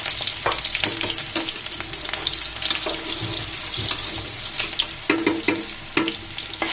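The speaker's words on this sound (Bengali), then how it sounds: "আমার তেলটা গরম হয়ে গিয়েছে, দিয়ে দিলাম কয়েকটা রসুন কুচি, তারপর দিব বেশ কিছু পেঁয়াজ" Chopped garlic and onions sizzling in hot oil, stirred in the pan: a continuous close crackling hiss broken by sharp scraping and clinking strikes of a spoon against the pan.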